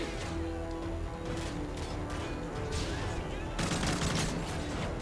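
Gunfire and explosions in the video game Call of Duty Modern Warfare 3, dense and continuous shooting with crashing blasts, with a heavier burst near the end, loud throughout.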